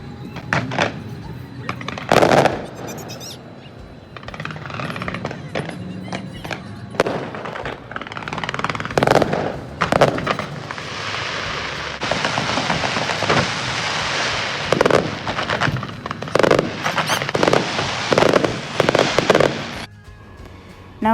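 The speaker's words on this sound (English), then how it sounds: "let's have a look on the fireworks which was held on the previous day of the National Day" Fireworks at Qatar National Day celebrations on a windy winter night: repeated loud booms and crackling bursts, some rapid volleys and some spaced single bangs, set against crowd noise and wind, with people talking at times.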